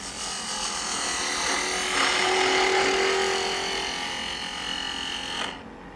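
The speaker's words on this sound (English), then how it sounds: "we will work this down pretty quick with this bowl gouge" A bowl gouge cuts into a spinning wooden bird figure on a wood lathe, giving a steady, close scraping and whirring rasp that rises slightly midway and then drops off at the end.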